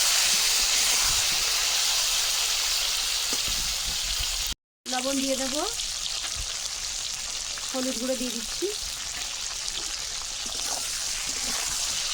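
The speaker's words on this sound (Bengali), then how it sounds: "মাছ ভাজার তেলে আলু আর বিনস ভেজে নেবো" Potatoes and beans fry in oil previously used for fish, giving a loud, steady sizzling hiss that cuts out for a moment before resuming, with a couple of faint vocal sounds in the background.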